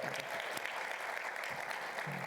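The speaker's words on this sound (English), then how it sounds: "Can we give him a round of applause?" Audience applause at an annual meeting session for the Philadelphia school superintendent, a steady, dense clapping from a sizable crowd at even loudness, with faint voices mixed in.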